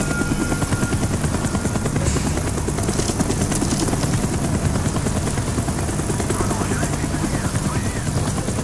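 A video game helicopter's rotor thumps and drones steadily and loudly throughout, as if hovering nearby, with no talking.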